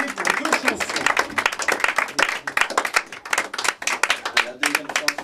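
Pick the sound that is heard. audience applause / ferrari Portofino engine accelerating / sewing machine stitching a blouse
audience applause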